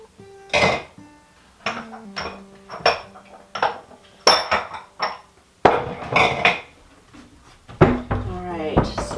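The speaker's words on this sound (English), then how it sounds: "Let me put my baking soda away. And my cocoa powder." Baking soda and cocoa powder containers are set down and put away in a kitchen, giving a series of separate knocks and clinks spaced about a second apart, with a person speaking in between.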